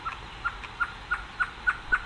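A blue grosbeak in the dry caatinga scrub gives a series of short, bright chirping notes at an even, quick rhythm, about eight in two seconds, clear and moderately close above faint background hiss.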